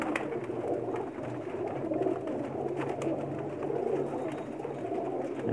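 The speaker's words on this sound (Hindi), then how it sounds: "मैं आपको दिखा रहा हूँ इनके कुछ नायाब कबूतर जो बाजियों में उड़ते हैं" Rare flying pigeons kept on a rooftop loft, cooing softly and continuously at moderate distance, with a faint background hum and no talking.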